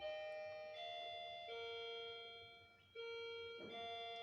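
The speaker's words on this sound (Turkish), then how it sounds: "zil çaldı." An electronic doorbell chime plays a series of clear sustained tones, changing pitch every second or so, ringing alone at moderate volume.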